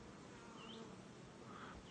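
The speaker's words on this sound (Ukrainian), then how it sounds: "Але бджола працює зранку вже." Faint, continuous buzzing of many honeybees around a hive in the morning, a soft steady drone with a few louder passes.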